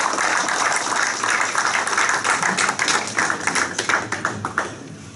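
Sustained, loud crowd applause fills an award ceremony hall for a community leadership award in London, dense clapping throughout with a few sharper individual claps standing out toward the end.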